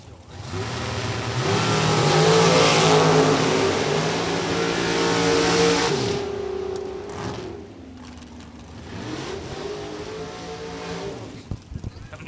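Race car engine at a drag racing event revs hard and loud for several seconds, holding high, then drops and rises again in shorter bursts, with crowd and voices faintly around.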